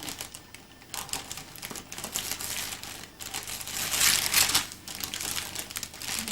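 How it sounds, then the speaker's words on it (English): Wrapping paper crinkling and tearing as a small child unwraps a birthday present at home, with busy rustling that swells into a louder burst of crumpling partway through. "Oh, paper sounds good"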